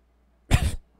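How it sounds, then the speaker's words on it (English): A single short, close cough, a brief harsh burst in otherwise quiet surroundings. "I'm going to cough."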